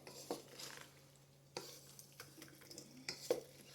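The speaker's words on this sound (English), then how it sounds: "I'm just stirring it all up, making sure the broccoli gets the sauce and get that all incorporated" Spoon scraping and stirring through a pan of broccoli coated in sauce during lunch meal prep, with soft, irregular clinks and scrapes at close range, fairly quiet, and no talking.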